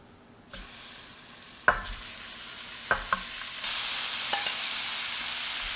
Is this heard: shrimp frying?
yes